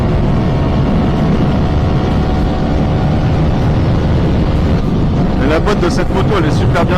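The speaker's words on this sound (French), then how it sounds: "Là, je suis en 6ème. Du coup, 6000 tours, c'est à peine à mi-régime sur cette moto" Yamaha YZF R125 2022 motorcycle with a Blackwidow exhaust cruising in sixth gear at about 6000 rpm, a steady engine drone with heavy wind rush throughout, under continuous talking.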